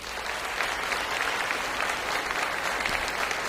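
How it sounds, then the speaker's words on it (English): Steady, dense clapping from a crowd at a college honors convocation, a continuous round of applause with no voices over it. "Please give these change makers a round of applause."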